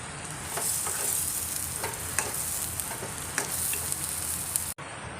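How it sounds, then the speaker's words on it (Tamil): Snake gourd kootu with ground masala added, cooking in a pan, gives a steady close bubbling sizzle with soft stirring scrapes throughout, alone without talk. "இப்போ மசாலா ஊற்றி ஒரு நிமிஷம் வந்துருச்சு நல்லா கொதி வந்துச்சு"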